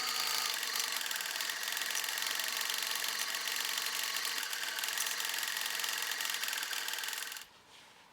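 A sewing machine stitches the side seams of a garment with a continuous, dense mechanical whir that holds steady for about seven seconds before stopping abruptly, close and fairly loud.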